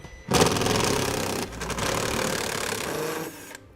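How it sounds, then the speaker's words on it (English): Power driver with a T15 Torx bit spinning two screws out of a vehicle's underside panel for a trailer hitch install, one sustained motor whir with a brief dip midway, close and loud with no talking. "there's going to be 2 screws, and I'm going to be using a T15 Torx bit to remove them."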